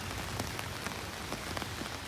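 Steady rain falling outdoors in a town street, a continuous close hiss of drops on hard surfaces with scattered louder splats, no voices.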